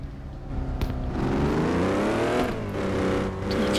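A powerful car engine rumbles close by, revving up with a rising whine and holding at steady high revs, loud and continuous with a brief dip midway.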